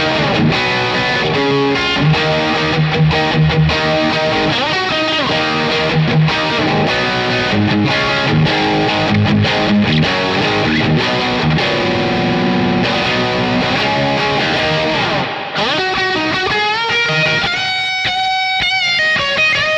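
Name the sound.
electric guitar through Boss Katana Artist MKII amp, booster and plate reverb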